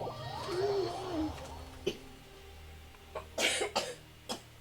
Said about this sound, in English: Just a little bit of cough?